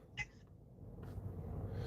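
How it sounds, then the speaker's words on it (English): A domestic cat gives one short, faint meow, followed by quiet background hum and rustle. "that's our cat, brody"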